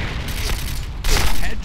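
Explosions and heavy gunfire from the shooter game Point Blank burst out close and loud, with a fresh blast landing partway through, under a player's chatter.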